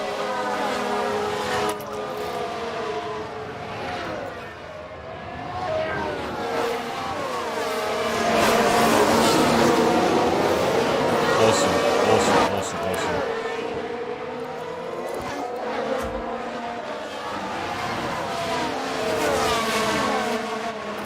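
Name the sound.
racing cars on track in F1 Manager 2022 video game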